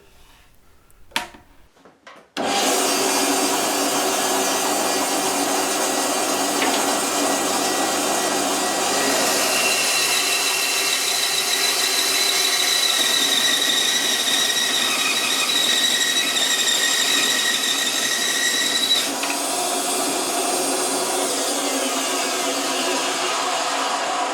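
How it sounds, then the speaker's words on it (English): A power tool cuts excess wood off the heel of an ES 335 guitar neck. After a few brief knocks, a loud, steady, whining cut starts and runs continuously for about twenty seconds with small shifts in pitch. "But I'm just going to cut this big bit of excess off for now"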